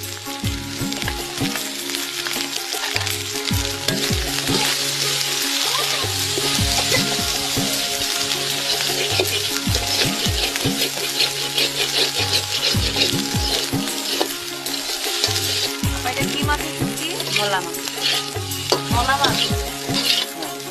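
Dried fish stir-fried with banana stem crackles loudly and steadily in a pan for a long stretch, punctuated by repeated spatula scrapes and stirring knocks.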